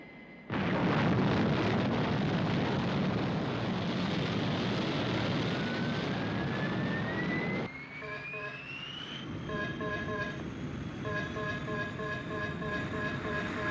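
Thunderbird 1, a rocket ship in a puppet science-fiction series, roars loudly through a sustained takeoff, its engine blast followed by a rising whine and a steadier, softer drone with tonal beeps.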